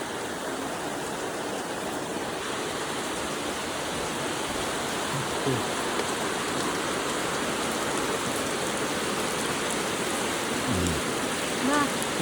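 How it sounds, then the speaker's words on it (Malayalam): Heavy outdoor rain pouring in a dense, steady roar that stays loud throughout, with faint voices briefly audible beneath it. "പെരുമഴയാ പെരുമഴ"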